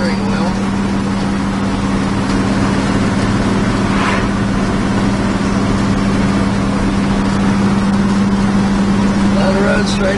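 A 1979 Dodge Li'l Red Express pickup with its exhaust pipes gives a steady, deep low rumble while cruising down the road. The drone holds constant and loud throughout, with someone talking over it.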